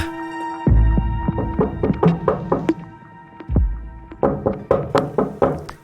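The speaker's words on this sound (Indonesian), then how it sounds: "Kemudian tak lama, ada yang mengetuk pintu warungnya." Knocking on the door of a small roadside shop, a pair of firm thunks followed by rapid rhythmic raps, a pause, then another thump and a fresh series of knocks, near and fairly loud over a quiet room with a steady hum.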